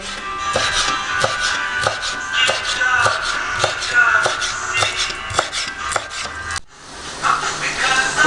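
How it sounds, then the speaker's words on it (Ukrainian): Fresh dill is chopped with a knife on a board, a rapid series of sharp, close, rhythmic chops for several seconds before a brief pause and a softer final stretch. "Поки воно ще тушиться, то я кріп поріжу."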